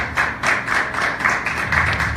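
A church congregation applauding, steady rhythmic hand clapping from many people close by, filling the space with no talking.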